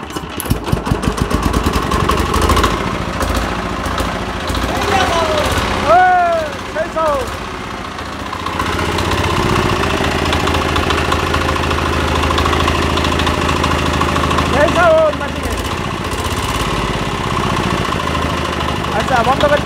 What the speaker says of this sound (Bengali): হ্যাঁ, এই মেশিনটা এখানে স্টার্ট দেবো। এটা হচ্ছে ৬০ কেজি R1 170।